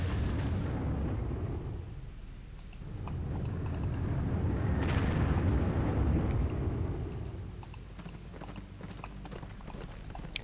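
Bombing explosions in a WWII PC strategy game rumble continuously as a heavy, low, dense roar that swells and fades, with a sharper burst in the middle and faint clicking underneath.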